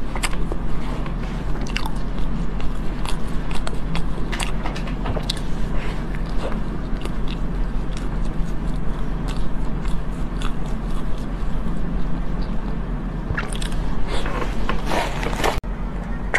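Close-up crunchy biting and wet chewing of pastries such as a large chocolate puff, jambon cake and kimbap, with repeated crisp bites over a continuous chewing texture, loud and near.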